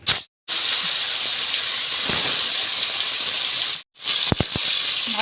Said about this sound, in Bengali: তেল গরম হয়ে গেছে, মাছ ভেজে নিচ্ছি।